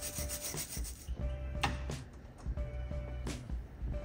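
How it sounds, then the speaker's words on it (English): A wire brush scrubs corrosion off a battery cable on a 48V EZGO TXT golf cart, making repeated close, scratchy rubbing strokes in an uneven rhythm with no talking. "we're gonna use a wire brush and go ahead and clean this up before we put it to the battery"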